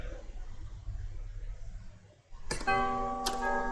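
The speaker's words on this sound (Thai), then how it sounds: "อ๋อ มันคือกระดิ่งใหญ่" A big bell in LEGO Star Wars: The Skywalker Saga rings out after a quiet ambient stretch: a clear metallic strike with long, sustained harmonic ringing, struck again a moment later.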